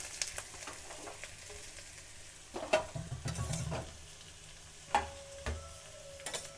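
Onion and green chilli frying in about two tablespoons of oil, a faint steady sizzle with occasional soft clicks and scrapes of a spoon stirring the pan.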